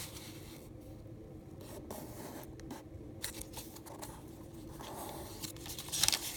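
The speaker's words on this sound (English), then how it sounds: "Fold this edge to the middle crease, but only crease till this point here." Origami paper being folded and creased, quiet rubbing and scraping strokes of fingers pressing along the paper, faint and close, with a sharper crinkle near the end.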